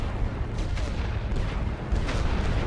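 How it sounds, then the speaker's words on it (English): An artillery barrage in a World War I strategy video game sounds as a dense, continuous rumble of distant booms and thuds rolling over one another without pause. "Chargez l'artillerie. Préparez un barrage total."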